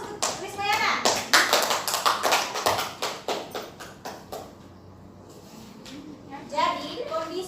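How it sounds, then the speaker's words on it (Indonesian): Classroom students clap for a classmate, a burst of rapid mixed handclaps that fades after about five seconds, with children's voices chattering around it. "Beri aplaus untuk Rismayana."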